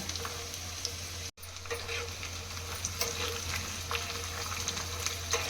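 Crushed garlic and green chillies fry in hot oil, a dense, loud sizzle with crackling bursts and a brief cut near the start, alone with no talk.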